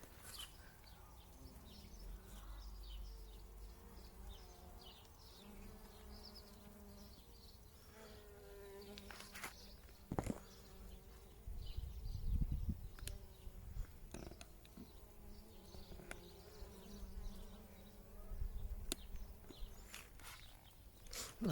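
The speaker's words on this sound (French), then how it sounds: "On fait un petit tour aux abeilles" Bees buzz around beehives in a garden, a steady close droning with scattered rustles and footsteps nearby.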